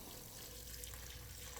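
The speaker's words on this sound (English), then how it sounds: "strain it through a cheesecloth into another pan" Homemade chicken stock pours steadily through cheesecloth into a pan, giving a faint, continuous trickling wash of liquid with no voices.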